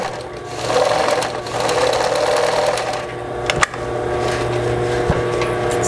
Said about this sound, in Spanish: Me voy a hacer esa costura, un poquito menos del ancho del pie